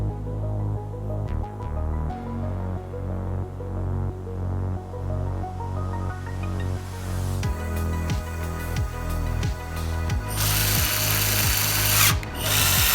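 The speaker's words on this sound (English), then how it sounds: "And install the screws." A power screwdriver drives screws into the back cover of a Samsung TV during a broken screen replacement, whirring in short repeated bursts with a steady motor hum, close and fairly loud, with no talking.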